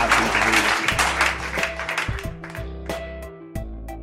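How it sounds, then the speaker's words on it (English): Audience applause for investor Keith Rabois at a founders' talk event, a burst of clapping that fades over a few seconds while music with sustained tones rises underneath. "Everyone, please give a round of applause for Keith."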